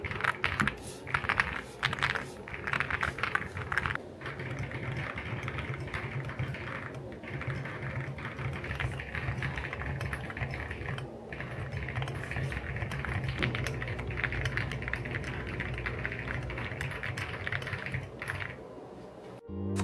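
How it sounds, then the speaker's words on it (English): Fast, steady typing on a mechanical keyboard at a desk setup, with deep, thocky, clacky keystrokes and occasional louder key hits, close and continuous throughout. "The sound is very deep and thocky, and typing on it is just so satisfying."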